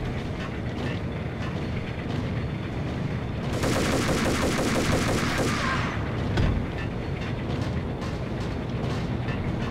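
Enemy gunfire in Max Payne crackles through a dense, noisy action scene, swelling into a sharp, loud volley near the middle before settling back into a continuous rumble.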